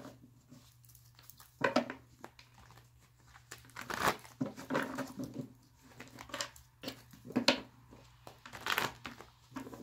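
Tarot cards shuffled by hand, a run of papery riffles, crinkles and soft slaps that come in uneven bursts and pauses, close up and fairly quiet, with no one speaking.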